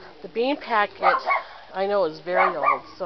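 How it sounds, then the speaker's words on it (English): Several dogs bark in the background of a vegetable garden, with short barks mixed under someone talking throughout. "Oh, excuse my dogs."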